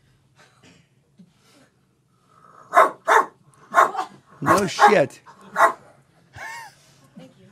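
A woman imitates a barking dog with a string of loud, close, throaty woof-like barks in quick succession, preceded by faint background chatter and followed by a short exclamation.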